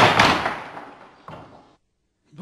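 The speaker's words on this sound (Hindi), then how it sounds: "जाते जाते दरवाजा बंद कर दीजिएगा।" In a Hindi radio play, a door slams shut with a loud bang that tails off, then a softer second thud and a clatter. Silence follows, and a faint noise returns at the end.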